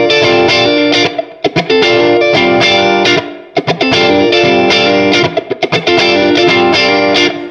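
Electric guitar played through a Vox MV50 AC micro tube amp on its 70s profile with a splash of reverb, loud strummed chords with rhythmic stops and short muted chops, no voices.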